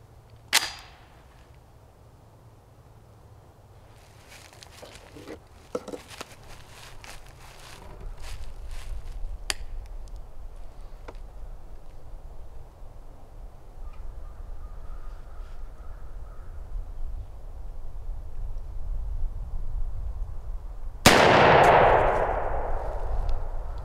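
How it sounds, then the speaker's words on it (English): A single loud, close blast from a 20 gauge shotgun firing a Federal TSS number 7 shell during a turkey load pattern test. It comes near the end after a long stretch of quiet outdoor ambience with a few scattered clicks. "shoot the Federal TSS number 7 at 20"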